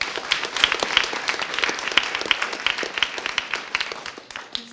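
An audience at a biology conference in Norway applauds a speaker, a lively crowd of many hands clapping with sharp individual claps standing out, fading toward the end.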